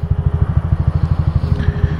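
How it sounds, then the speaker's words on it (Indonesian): A Honda Future motorcycle engine runs close up at night, its single-cylinder beat thudding in a quick, even, pulsing rhythm that stays loud and steady throughout, with no talk over it. "So malam ni akan bawa motor future keluar"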